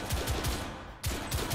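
Gunfire in the video game The Order: 1886, heard as rapid, evenly spaced automatic shots close up, with a brief lull midway before the rattling bursts resume.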